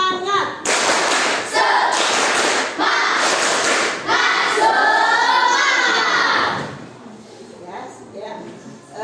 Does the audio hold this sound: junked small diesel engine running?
no